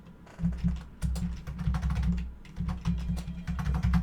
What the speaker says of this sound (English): Typing.